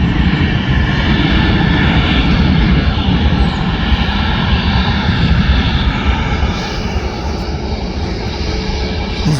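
A Sun Express jet airliner at Manchester Airport roars steadily and loudly across the whole stretch, a broad, continuous engine rumble with a slight easing toward the end.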